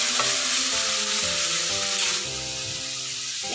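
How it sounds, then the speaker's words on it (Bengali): Cumin and turmeric spice paste loosened with a little water fries in a pan, giving a steady, close hiss of sizzling throughout, with a soft musical tone running underneath. "তো মশলাটা একটু জল দিয়ে ভেজে নেবো হালকা করে।"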